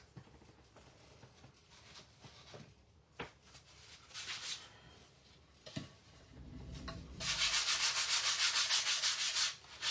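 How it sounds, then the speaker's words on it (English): Wood is sanded by hand with 120 grit sandpaper: scattered scratchy rubs at first, then a sustained rapid back-and-forth rasp of closely repeated strokes, close and fairly loud, with no talking. "Let me sand that off real quick."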